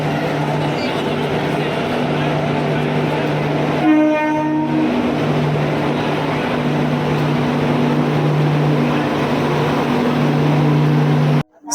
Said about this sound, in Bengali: স্টেশনে ট্রেন চলে এসেছে